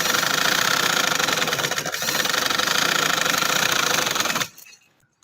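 A sewing machine stitches trouser fabric in a steady, fast mechanical whir that runs loud and close, then stops abruptly near the end.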